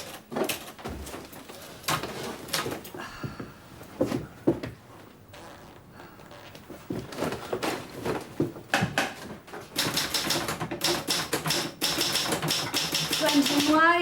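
Typing on a mechanical typewriter indoors, irregular bursts of sharp key clacks that thin out midway and then grow denser and louder toward the end, with people talking over parts of it.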